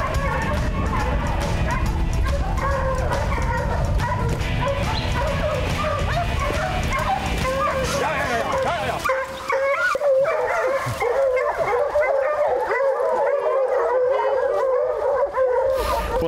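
Bear-hunting dogs in North Carolina bark, yip and howl in a loud, dense pack chorus that carries on without a break, with sharper, more excited cries in the later part.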